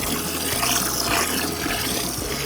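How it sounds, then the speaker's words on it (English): Water is poured in to cover items in a container, a steady, loud, close rush of filling water that continues unbroken with no talk. "how much water am I supposed to put in?"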